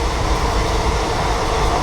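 A train running at night near Purulia station, heard from inside as a loud, steady low rumble of wheels and carriage without distinct clacks.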